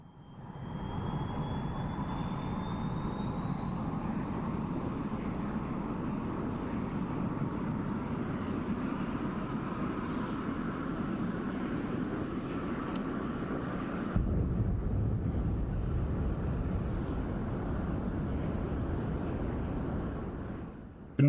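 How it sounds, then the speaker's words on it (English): An F-100D Super Sabre jet engine in the DCS flight simulator roars continuously, a steady broadband rumble with a high whine that climbs slowly in pitch, then the low rumble thickens abruptly near the end. "it's the engine sounds that I love about this thing"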